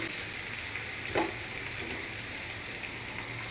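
Catla fish sizzles in hot oil in a frying pan, a steady broadband hiss throughout with a few brief crackles and pops, close and moderately loud, no voices.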